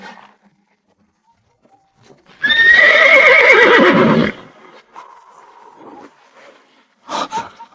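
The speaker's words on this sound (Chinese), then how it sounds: "是赤足乌骓的马蹄声，是我的同门。" A black steed with red feet lets out a loud, shrill whinny lasting a couple of seconds, followed by softer hoof clops and snorting nearby, then another brief neigh.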